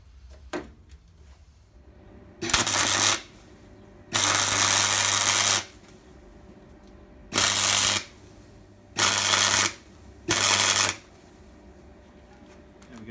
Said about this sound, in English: Just use the magnetic clamp to hold it, and I tack weld it into position.